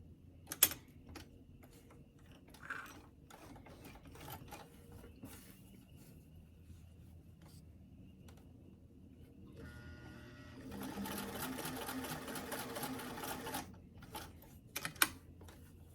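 A sewing machine stitches the sleeve of a doll dress in short bursts, a quiet rapid whirring run in the middle with scattered clicks and fabric handling before and after, no talk.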